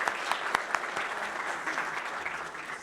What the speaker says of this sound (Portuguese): muito obrigado aí ao Luiz, uma salva de palmas.